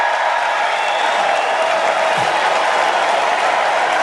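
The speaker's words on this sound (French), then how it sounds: "il est applaudi de très longues minutes par une foule qui scande « Merci Joe »" A large political crowd gives Joe Biden long, roaring applause mixed with cheering and chanting, a thick wall of sound held steady without a break.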